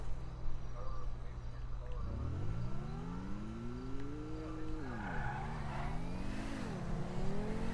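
A hybrid car in GTA Online pulls away from a standstill, its engine note climbing steadily in pitch as it accelerates, rising and dipping through gear changes over a low rumble, with a faint tire squeal.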